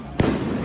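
A single sharp report from a tear gas launcher fired into the air during a union march in Paris where riot police charge, a sudden bang with a short ringing tail over street noise.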